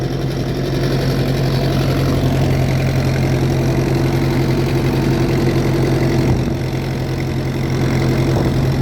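A 1967 International 434 tractor engine runs steadily while ploughing, a loud, continuous low diesel drone with a slight knocking edge that holds close and even throughout, with no talking.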